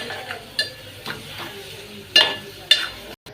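Chopped onion softening in a pan with ginger garlic paste, a steady low sizzle broken by a few sharp spoon scrapes and clinks of stirring, close by with no talk.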